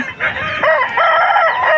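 A white peacock breed rooster crowing at a rooster market, one loud, close, drawn-out crow with a rising and falling pitch, heard on its own with no talk.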